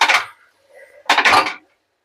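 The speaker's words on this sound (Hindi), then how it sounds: "तो इस तरह से लगातार चलाते हुए हम भून लेते हैं पोस्ता के दाने को।" Poppy seeds being stirred and roasted in a pan, giving two short bursts of scraping and rattling separated by a quieter pause, close and fairly loud.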